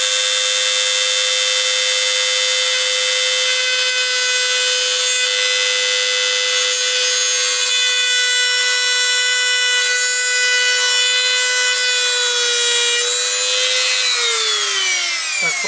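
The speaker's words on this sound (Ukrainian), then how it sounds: "Пиляємо зараз підшліцеву викрутку, все гарненько включаємо і робимо." A high-pitched rotary tool runs continuously and close while cutting a screwdriver slot into the carburetor needle of a Chinese brush cutter, holding a steady pitch before dropping and winding down at the end.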